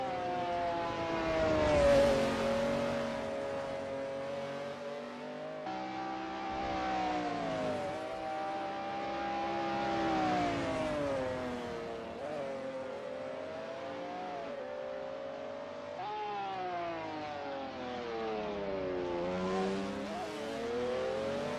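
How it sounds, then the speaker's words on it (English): McLaren F1 GTR race car in a sim racing game, running a practice out lap at Sonoma Raceway Long Circuit: a steady, loud engine drone rising and falling in pitch through gear changes, with no talk. "David Zahn is on his practice out lap."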